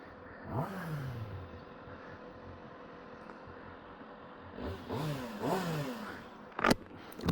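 2025 Kawasaki ZX6R motorcycle engine, faint and distant, revving through rising and falling pitch sweeps at the start and again near the end, with a brief clatter at the close.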